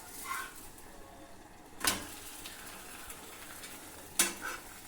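A paratha cooking on a pan, a soft low sizzle under background hiss with two sharp scraping or flipping sounds spaced a few seconds apart.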